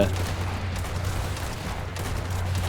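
Rapid cartoonish gunfire from squad shooters blasting zombies in the mobile game Zombie Horde, a steady dense barrage running throughout under game music with no gaps.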